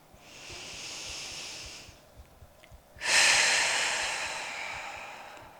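Slow breathing during a standing yoga pose: a long soft airy inhale, a pause, then a louder, fuller exhale that slowly fades, close and without talk.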